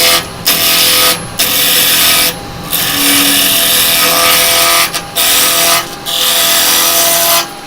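A spindle gouge cutting a spinning piece of wood on a woodturning lathe, a loud continuous rasping scrape broken by short pauses as the tool lifts off, then returning in long sustained passes.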